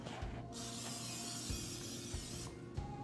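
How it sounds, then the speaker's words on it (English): A short hiss of cooking spray sprayed into a pan, lasting about two seconds, close up, with faint clicks and clatter before and after. "Cooking spray."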